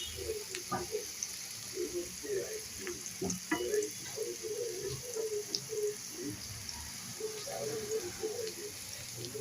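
Sliced okra (ladies finger) frying in oil in a pan, a steady close sizzle with soft scraping and stirring knocks scattered throughout.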